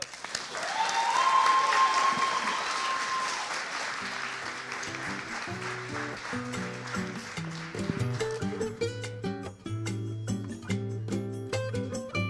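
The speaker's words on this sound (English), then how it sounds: "let's give him a round of applause." An audience at a college venture-fund pitch competition breaks into loud, sustained applause that peaks early, then continues under rising stage music.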